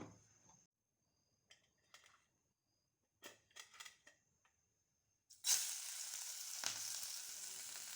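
Oil hitting a hot iron frying pan for a mushroom fry on a gas stove bursts into a loud, steady sizzle after a few soft clinks of pans and utensils, continuing up close with no talk.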